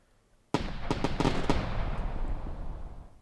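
Simulated fireworks from Finale Fireworks 3D software burst after a short silence, a quick run of sharp crackling pops followed by a rumbling decay.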